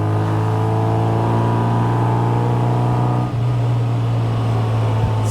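A 1960 Bugeye Sprite's engine drones steadily from inside the car while driving in third gear, loud and constant, with a brief dip in tone as the throttle eases off for deceleration.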